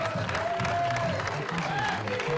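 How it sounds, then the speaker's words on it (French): Applause from a crowd at a junior cycling race awards in Veynes, a steady wash of clapping with a voice speaking over it through a loudspeaker. "Classement général sous les couleurs de l'UC Hautes-Alpes, on applaudit Quentin Van."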